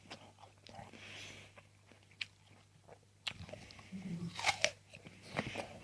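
Crunchy allotment apple of the Red Forest variety, bitten and chewed close up: quiet scattered crunches build into louder, sharp crunching bites with soft breathy sounds between them.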